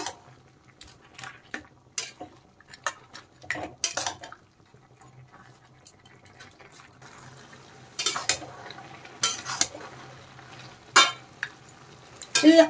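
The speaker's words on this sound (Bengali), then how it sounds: "ভেজে রাখা মাছের মাথাটা দিয়ে দিলাম, দিয়ে আর একটু লাউয়ের সাথে নেড়ে চেড়ে ভালোভাবে মাছের মাথাটা মিশিয়ে দেব" Fried fish head being stirred and mixed with bottle gourd in a pan, with intermittent scraping and clinking of a utensil against the pan and quiet gaps between strokes.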